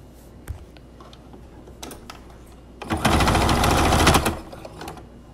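A sewing machine sews across a fabric face mask in a loud, fast, close burst of rapid needle clatter lasting about a second and a half, after scattered handling clicks and rustles.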